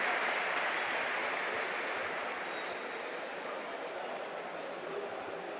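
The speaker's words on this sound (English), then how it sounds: "So Rafinha gets the applause and Junior will get a warm welcome as well." Broad, distant applause from Barcelona fans in a large football stadium greets a substituted player, a steady wash of crowd noise with sustained clapping that slowly softens.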